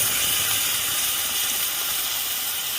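Soaked cumin and chili powder paste added to hot oil in a pan, giving a loud, steady, close hiss that holds evenly throughout with no voices.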